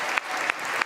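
A crowd applauds the host at a chess event in Las Vegas, a brief burst of dense, steady clapping with a few sharper claps.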